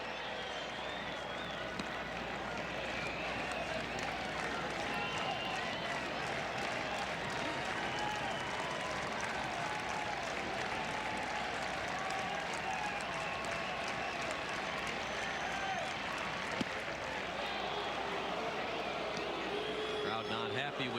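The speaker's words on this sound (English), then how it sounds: "Crowd not happy with Jim Joyce on that call" A packed Fenway Park crowd at a 1994 Red Sox game versus the Brewers reacts to an umpire's call, a steady broad roar and murmur of thousands filling the whole span, with distant stadium sounds under it.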